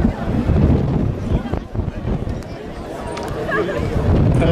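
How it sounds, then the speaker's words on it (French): Gusty wind buffets the microphone at an outdoor sailing competition, rumbling in heavy low bursts that rise and fall while commentators talk underneath. "Alors que petit épisode venteux."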